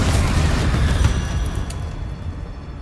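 The Confringo explosive spell in Hogwarts Legacy, a loud booming blast that opens strongly and then rumbles and decays over a few seconds, with some crackling bursts in the tail.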